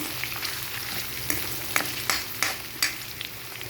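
Onions frying in a pan for tomato bath, a steady broadband sizzle with several sharp crackling pops and stirring scrapes close by, no talking.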